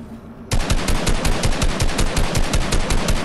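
Rapid automatic gunfire in the video game Fortnite erupts after a short quiet lead-in, a steady stream of loud, closely spaced shots with no talking.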